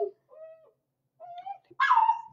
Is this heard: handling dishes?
no